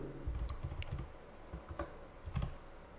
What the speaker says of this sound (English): which we can just type in right here